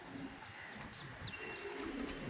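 Red Rampuri pigeons coo quietly, soft low warbling from a few birds mixed into hissy background noise, with a faint thin chirp rising briefly.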